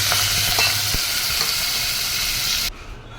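Bottle gourd peel and green chili sizzle loudly in a mustard-seed and asafoetida tempering, a dense, close frying hiss with stirring clinks that cuts off sharply near the end, leaving a quiet tail.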